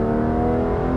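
Porsche 991 GT3 RS flat-six on the Le Mans Maison Blanche circuit holding a loud, high, steady engine howl through a downshift, close and continuous for a brief moment with no talk.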